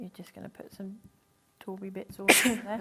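A person talks, then after a pause a single loud sneeze bursts out close by.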